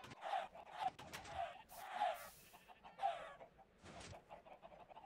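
Chickens cluck in the Minecraft video game, several short, bright bursts of clucking spaced irregularly over a steady low background, fairly quiet and with no talking.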